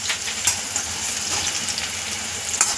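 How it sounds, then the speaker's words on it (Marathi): Alu vadi, taro leaf rolls, fry in oil over a medium flame, a dense steady hiss of bubbling oil heard close, with a couple of brief sharper crackles. "हे बघा तुम्ही बघू शकता किती व्यवस्थित आता आपली आळूची वडी फ्राय झाली आहे"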